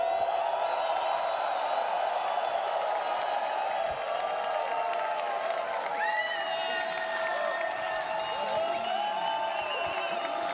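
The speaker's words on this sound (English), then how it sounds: "I want your whole stadium to roar for South America. Please, a big shout for the greatest Dota tournament" Stadium crowd at The International Dota 2 tournament cheering and roaring steadily with applause and whoops, with an announcer's voice over the noise.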